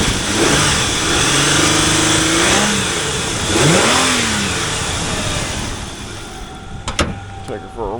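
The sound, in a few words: 1999 Isuzu Trooper 3.5L direct injection V6 engine revving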